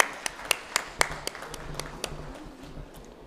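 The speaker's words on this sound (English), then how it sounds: "A big round of applause for him." At a formal education summit honouring dignitaries, a handful of sharp, scattered claps from the audience ring out, thinning and fading within a few seconds in a quiet hall.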